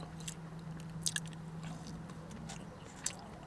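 Soft, bready restaurant-style onion rings being bitten and chewed close to the mic, with a few faint crunchy bites over a quiet, steady background hum. The chewing is mostly muffled rather than crisp.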